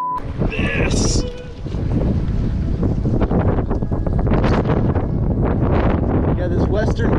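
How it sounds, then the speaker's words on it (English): Strong western wind buffets the microphone on a fall fly-fishing trip in the Rockies, a loud continuous roaring rush with gusty surges throughout. "This western wind is no joke."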